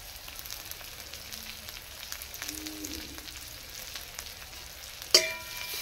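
Two onions and chopped green chillies frying in hot oil in a pan, a soft steady sizzle with light crackles, ending in a sharp metallic clink.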